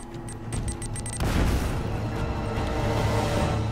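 A grenade blast in Uncharted: Drake's Fortune: a sharp burst of broadband boom hits about a second in and then rumbles on loudly with debris and sustained roar, after a few quick high clicks beforehand.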